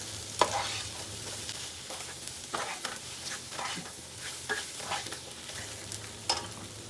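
Soya chunks being stirred in a pan for a Kerala-style roast, with a low steady sizzle under irregular scraping and clinking strokes of the spoon throughout; no voices.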